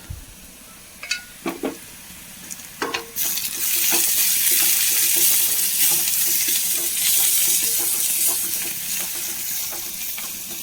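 Crushed chili hits hot oil in a pan for drumstick leaf upperi: a few sharp clinks and stirs, then a loud, steady sizzle swells and holds, easing slightly toward the end.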